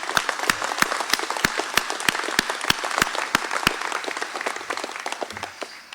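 Audience applause fills a hall at a cooperative's annual meeting, a steady wash of many hands clapping with sharp individual claps standing out, sustained for several seconds and slowly thinning toward the end.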